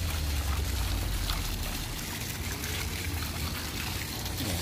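Water pours and trickles steadily outdoors in Riyadh's Diplomatic Quarter, likely from a fountain, with a continuous broadband splashing wash and a low rumble underneath, fairly close and constant throughout without any talk.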